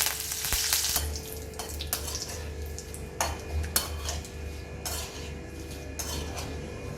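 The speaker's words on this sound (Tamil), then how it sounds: "இப்போ கருவேப்பிலையை வறுத்துக்கலாம்." Curry leaves roasting in a pan with a soft continuous sizzle, punctuated by repeated clinks and scrapes of a utensil against the pan, close but fairly quiet, with no talking.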